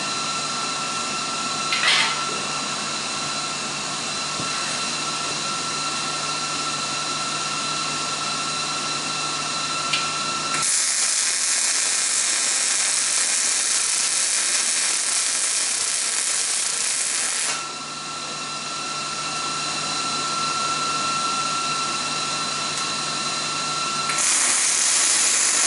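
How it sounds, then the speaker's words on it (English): An angle grinder grinds down heavy weld beads on steel, a loud continuous hissing whine in two long bursts, starting and stopping abruptly, with a quieter steady hum between them. "I made the welds a little heavy because I'm going to grind them down"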